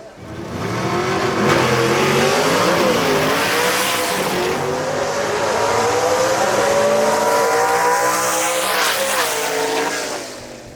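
Two drag race cars launching side by side in a B-Gas round, engines roaring loud and close as they rev and accelerate away, rising and falling pitch sustained for several seconds, with faint tire noise and no speech.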